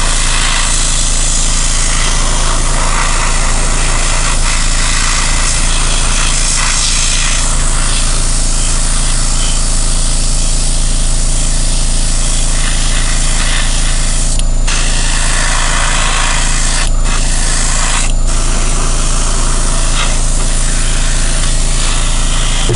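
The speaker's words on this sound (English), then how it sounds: "I prefer to use a dual action airbrush like this Badger Chrome," Badger Chrome dual-action, gravity-fed airbrush spraying Vallejo primer, a steady continuous hiss of air lasting throughout with a few brief breaks and sputters near the end, close and fairly loud.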